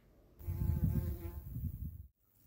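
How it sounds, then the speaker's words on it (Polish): A small common carder bumblebee buzzes close by, a low steady hum lasting under two seconds that swells and fades, heard alone outdoors. "Prawdopodobnie trzmiel rudy, który jest stosunkowo mały."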